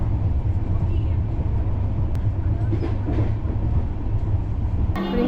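The Kovai Express passenger train rolls steadily from Chennai towards Salem, a continuous loud rumble with rail clatter and a few sharp clicks, heard from inside the moving carriage.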